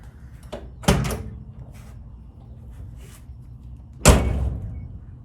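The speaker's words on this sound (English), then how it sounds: "see if we can get that door to shut properly" Two solid thunks as the door of a Chevrolet C10 truck is shut, one early and a louder slam later, with quieter handling noises between them.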